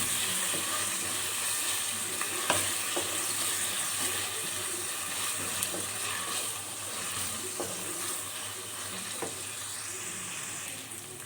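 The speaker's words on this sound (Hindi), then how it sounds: "लहसुन अदरक को अच्छी तरह से सौते कर लिया है" Garlic, ginger and green chili paste sizzles steadily in a pan for a home-style yellow split pea dal, a constant bright frying hiss with faint stirring taps.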